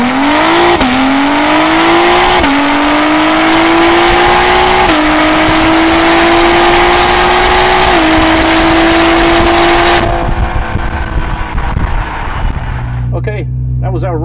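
Honda NSX on a drag strip at West Palm, a loud engine screaming up through several gear changes in quick succession before the sound cuts off, leaving quieter background noise.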